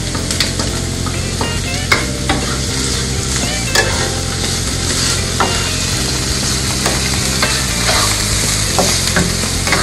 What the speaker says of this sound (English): So you're going to let it saute for a little while.